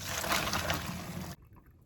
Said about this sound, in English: Noodles are ready, so I'm gonna drain it.